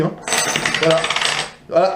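Silver Maple Leaf and French Hercule coins clinking together in a hand, a bright, ringing jingle in two short bursts, close up, with someone speaking briefly between them.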